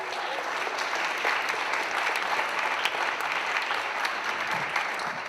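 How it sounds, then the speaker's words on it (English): Audience applause at a closing ceremony, a steady, dense round of clapping from a crowd, moderately loud and continuous for several seconds without talk. "So let's give that a good round of applause."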